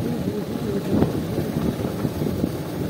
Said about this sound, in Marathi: लौ बाइक दुगुरे